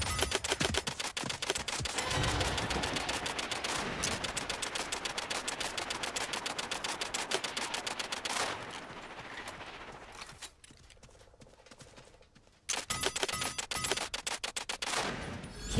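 Rapid automatic gunfire from the battle royale game Realm Royale rattles in fast, even bursts, loud and close, pausing briefly near the middle before resuming just as hard.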